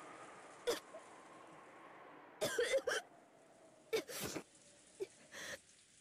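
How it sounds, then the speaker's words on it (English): Voice-acted coughing from the visual novel Umineko: a young woman's sharp, close coughs and throat clearing coming in several separate bursts over quiet background music. "Some fantastic coughing voice acting there"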